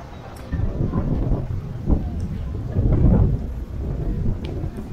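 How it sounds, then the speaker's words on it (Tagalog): Strong wind gusts roar and buffet an outdoor street spot with light drizzle, a dense rumbling wash that swells and eases over a few seconds, with faint voices in the background. "malakas yung hangin, saka umaambon eh."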